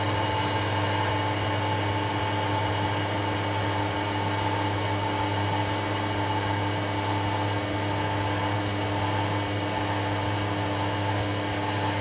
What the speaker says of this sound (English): we load our program, and we hit start. And now our machine's running.